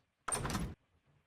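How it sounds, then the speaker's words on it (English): A video game door slides open with a single smooth half-second whoosh, loud and close against near silence. "Oh, you can hear the doors opening."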